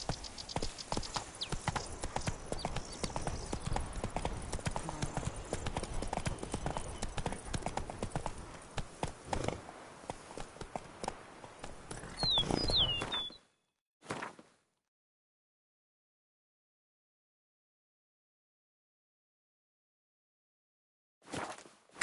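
The horse Roach from The Witcher 3 gallops with rapid, rhythmic hoofbeats for about thirteen seconds, then stops abruptly. A brief burst follows, then near silence and a short final sound.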